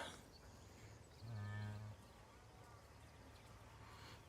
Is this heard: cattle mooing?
yes